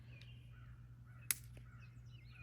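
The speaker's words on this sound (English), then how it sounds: "Hear the crows?" Crows caw faintly at a campsite, a few scattered calls carrying from a distance over a low steady background hum. A single sharp click or snap stands out partway through.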